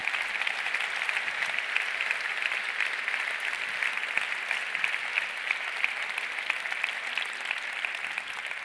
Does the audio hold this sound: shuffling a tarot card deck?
no